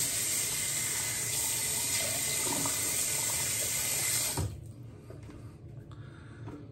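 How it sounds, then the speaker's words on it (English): Water runs and splashes as a wet shaver rinses his face between passes of a LORD L6 razor, a steady close rushing wash that cuts off abruptly, leaving faint drips and handling sounds. "I'm just putting a little bit of water on my face"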